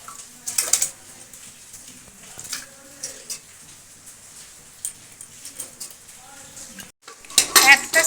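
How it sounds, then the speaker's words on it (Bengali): Washed lentils are tipped into a pressure cooker for dal with spinach. Scattered metallic clinks and scrapes of utensils and pot come close and irregular, with quiet pauses and a louder burst of clatter at the end. "ডালটা আমি পরিষ্কার করে ধুয়ে নিয়েছি। এটা কুকারে দিয়ে দেবো"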